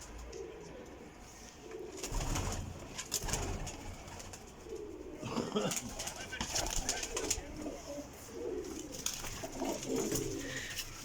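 Pigeons in a breeder's loft in Jhelum, with soft, repeated coos and occasional wing flutters throughout, mixed with background noise and someone talking.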